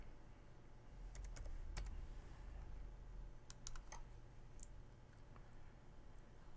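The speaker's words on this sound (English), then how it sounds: "So we will type in our domain name." Faint keystrokes on a computer keyboard tap out a domain name as a few scattered clicks and short bursts over a low steady hum.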